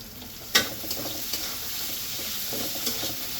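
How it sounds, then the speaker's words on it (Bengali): Chopped onions and green chilies sizzle with chicken in a pan, a steady soft frying hiss broken by a few sharp stirring scrapes, heard alone and fairly quietly. "এখন পেঁয়াজ কুচি দিয়ে দেবো আর কাঁচামরিচ কুচি একটু জাল জাল করবো"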